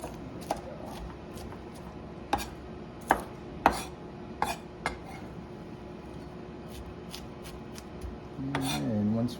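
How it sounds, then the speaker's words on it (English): A curved blade chops cabbage on a board in a string of crisp, irregular knocks, close and clear, before a short spell of rustling and a brief voice near the end. "This curved blade is really nice for chopping"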